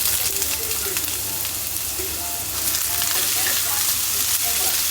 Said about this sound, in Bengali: কালো জিরা ফোড়ন দিলাম, পেঁয়াজ, কাঁচামরিচ, আর লাউটাকে ভালোভাবে এই যে চিপে নিচ্ছে